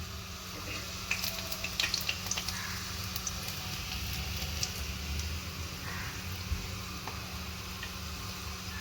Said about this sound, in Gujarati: પછી હિંગ નાખીશું આપણે.